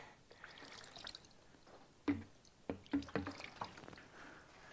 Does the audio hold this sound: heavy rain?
no